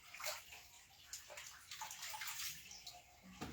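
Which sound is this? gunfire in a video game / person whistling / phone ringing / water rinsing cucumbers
water rinsing cucumbers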